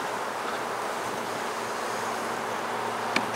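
Honey bees buzz steadily in a dense, even drone during a beehive inspection, with a short click near the end.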